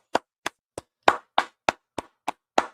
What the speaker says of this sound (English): Y'all go ahead and clap it up.